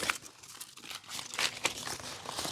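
Joist tape pulled and pressed onto a wooden deck frame, close crinkly peeling and tearing rustles with a few sharper crackles, steady over a couple of seconds.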